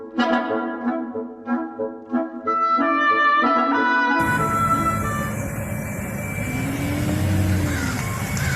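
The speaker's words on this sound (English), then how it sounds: "It's a new electric car, isn't it?" Newly bought electric car driving past, with a rising motor whine and road and tyre noise building steadily after a quieter opening that carries music-like tones.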